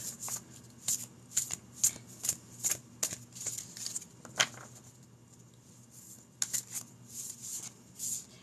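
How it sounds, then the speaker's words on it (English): Tarot cards being shuffled by hand nearby, quiet repeated riffling bursts in an uneven rhythm with a short pause before a final few shuffles. "I'm going to go ahead and start with these. So this is tarot"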